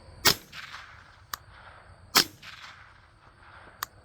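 Four suppressed .22 rifle shots come from a Ruger 10/22 with an integral barrel in a ZK-22 bullpup stock, firing CCI Standard Velocity, Aguila subsonic and Aguila Super rounds. Two are sharp, loud cracks and two are faint pops, spaced a second or more apart.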